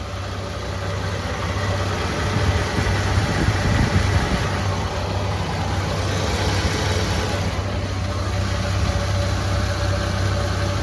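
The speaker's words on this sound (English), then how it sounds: "It's been idling for about 20 minutes now." A Land Cruiser 80 Series engine idles steadily with a constant low hum and a faint high whine, with no voices.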